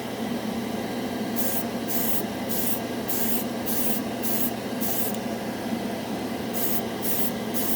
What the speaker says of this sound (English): It sprays really well, just like all the lacquers, just like the one before it.